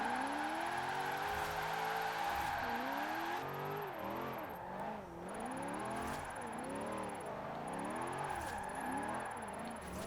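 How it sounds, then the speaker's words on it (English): Supercharged Australian saloon car on race tires in Forza Horizon 4, its engine revving up and down in repeated swells with a thin high supercharger whine riding above, steady and close with no voices. "That supercharger needs to be a little bit louder."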